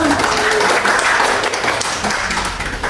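An audience at an Indonesian nursing-school disaster health education simulation applauds after a demonstration, a steady, moderately loud patter of many hands clapping at once, with faint voices and room noise mixed in.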